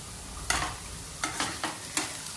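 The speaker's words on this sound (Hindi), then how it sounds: "बस कांदा फ्राई हो जाए" Chopped onion frying in a pan for a soybean dish, a steady sizzle broken by three or four sharper scraping bursts of stirring, close and moderately loud with no talking.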